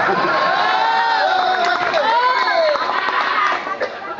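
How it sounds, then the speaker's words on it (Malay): A crowd at an UMNO Gombak political gathering cheers and shouts loudly and steadily, with clapping mixed into the din and voices calling out over it throughout. "Tepuk tangan lah"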